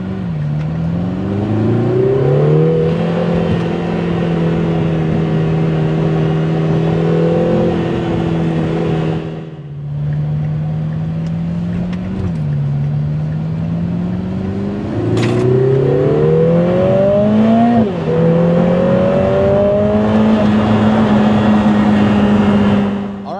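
A Lotus Emira sports car in track mode drives along a road, its engine droning loudly and steadily with repeated rising revs and gear changes, heard from inside the cabin.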